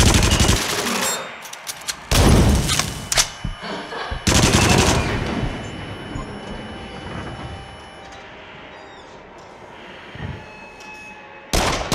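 Gunfire in the PS5 VR horror rollercoaster game Rush of Blood: loud bursts of shots crack out in clusters, separated by quieter stretches of eerie ambience, with a final burst at the end.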